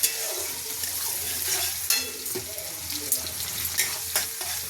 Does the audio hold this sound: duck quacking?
no